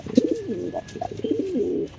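Lahori pigeons at a breeding farm coo in soft, rolling phrases, several overlapping calls close by and moderately loud, with no talking.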